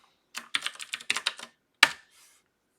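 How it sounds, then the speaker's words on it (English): Fingers type a quick burst of about a dozen close, crisp keystrokes on a computer keyboard, then a single firmer key press after a short pause, in an otherwise quiet room. "I'm gonna type something."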